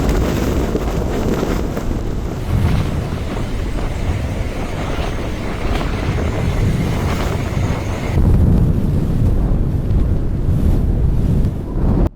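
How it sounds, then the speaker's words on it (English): Strong, steady wind in Wellington, New Zealand roars and buffets the microphone throughout, a dense low rumble with gusty surges and no voices. "it was certainly windy, even by Wellington standards"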